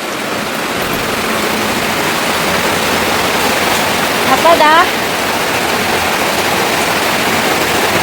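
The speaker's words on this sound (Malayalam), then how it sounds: "നല്ല സൂപ്പർ ഒരു മഴയാണ് പെയ്യുന്നത് കേട്ടോ." Heavy rain pours steadily outdoors as a broad, even hiss that lasts the whole clip, with a few brief words spoken and a faint birdlike chirp partway through.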